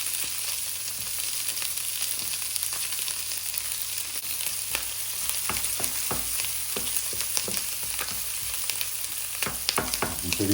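Onion and steak fry in a pan with a constant close sizzle, broken by scattered crackles and pops and occasional scraping as the food is stirred or turned, with no one speaking.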